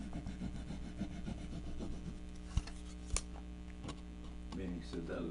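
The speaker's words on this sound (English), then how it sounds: "I'm applying a decent amount of pressure while I'm rubbing because I really want it to grab hold of that paint." Painted wood is rubbed firmly to distress the paint, giving a quiet, steady scraping friction over a faint hum, broken by a couple of sharp knocks.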